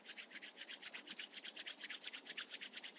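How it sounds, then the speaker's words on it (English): Palms rubbed briskly together in a quiet room, a rapid, even run of soft swishing strokes from close by. "Rub your palms together."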